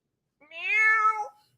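A person imitates a cat with one drawn-out, rising-and-falling meow, close and clear, alone with no other sound around it.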